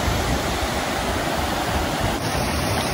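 A mountain stream in the Polar Urals rushes over stones in a steady, broadband wash of flowing water, close and continuous with no voices.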